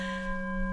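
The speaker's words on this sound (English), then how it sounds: "So let's take a gong on that one." A gong struck once, its sustained tone ringing steadily through the short span with several long, even overtones and no decay yet.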